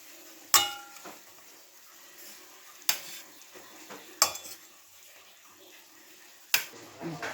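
Chicken pieces fry in a pan for a Chinese-style chicken dish, with a soft background sizzle broken by four sharp metallic clanks of a utensil stirring against the pan.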